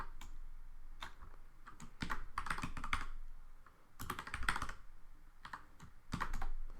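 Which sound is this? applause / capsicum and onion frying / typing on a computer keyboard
typing on a computer keyboard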